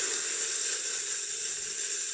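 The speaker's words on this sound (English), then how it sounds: "I'm just going to let it steam. It's more powerful than the Lelit X next door, definitely a more powerful steamer." Steam wand of a Lelit Elizabeth espresso machine blasting into a jar, a steady, loud, unbroken hiss that holds without pause for the whole span.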